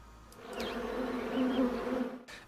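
Close, dense buzzing of honey bees (Apis) jostling to get into the hive, a continuous drone that rises in loudness midway, with single bees whining past near the microphone.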